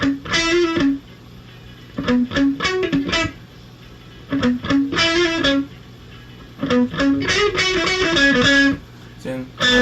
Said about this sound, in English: It's almost like a blues guitar lick.